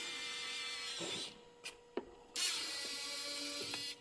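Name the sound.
car side mirror retraction motor running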